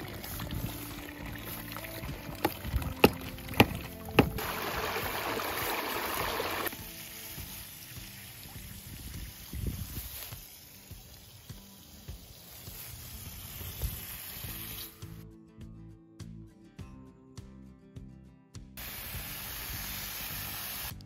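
Water flowing through flexible tubing and spilling into a dug swale on a high-elevation mountain desert slope, a faint, soft pouring hiss with a few sharp knocks early on.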